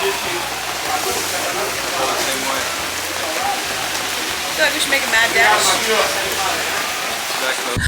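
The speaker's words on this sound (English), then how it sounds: "I think the rain is getting worse." Steady rain falls across a hillside in Rio de Janeiro, Brazil, giving a dense, even hiss throughout, with a few louder splashes near the end, while people talk over it.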